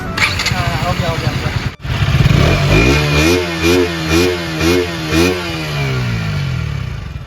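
A KTM motorcycle engine starts after a short crank and settles into a loud, close, burbling rev that rises and falls in waves, with someone talking over it.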